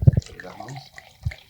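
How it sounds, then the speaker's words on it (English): Water is poured into a glass at a podcast recording, opening with a couple of short thumps and a brief splashing trickle before fading out, with another small knock near the end. "Do you want me to pour some water?"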